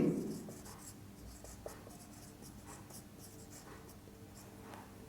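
Handwriting during an eighth-grade algebra lesson, faint scratchy strokes on a writing surface running steadily through a quiet room, with no talk.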